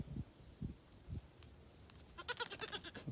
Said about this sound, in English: We plan on raising goats